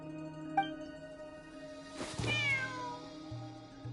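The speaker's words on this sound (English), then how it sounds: "There's a good kitty." A cat in the Genshin Impact video game gives one clear, rising meow midway, close and distinct over steady sustained background music tones.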